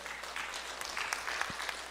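Church congregation clapping together during a Sunday worship service, a soft, steady patter of applause at moderate distance lasting a couple of seconds.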